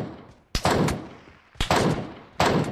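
MK14 rifle in PUBG Mobile fires three loud single shots about a second apart, each a sharp crack followed by a decaying boom.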